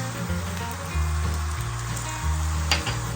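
Butter, soy sauce and mirin sizzle loudly around a cabbage steak in a pan over low heat, a constant crackling fry broken by short bursts as the sauce is stirred together, with no talk.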